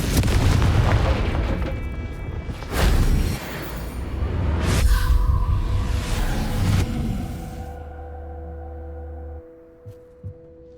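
Confringo explosion spell from the video game Hogwarts Legacy, several loud booming blasts with whooshing bursts, trailing into fading rumble and a couple of faint later pops.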